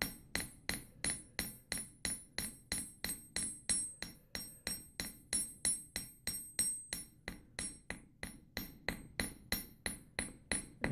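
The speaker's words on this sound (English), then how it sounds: "you can tell as you go where the spots are that need a little bit more hammering" Steel hammer blows flattening a caterpillar track coil, a steady rapid series of sharp metallic strikes, roughly three per second, close and clear with a ringing edge, no talk.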